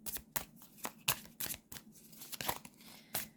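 A tarot card being drawn from a deck, with a run of quick papery riffles, slides and flicks of shuffling cards at an uneven pace, close and soft with no talking.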